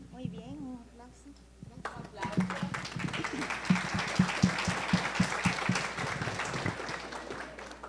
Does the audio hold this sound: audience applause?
yes